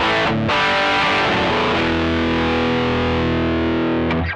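An electric guitar is played through a Strymon Sunset overdrive pedal set to its 2-stage distortion, with a few picked notes followed by a thick, sustained distorted chord that rings out loud before being cut off.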